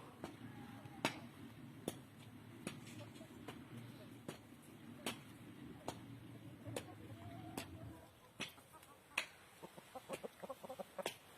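A chicken clucks in short bursts over a low rumbling background, with a few sharp clicks; the rumble stops partway and scattered clucks continue.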